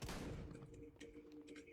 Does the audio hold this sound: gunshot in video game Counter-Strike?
yes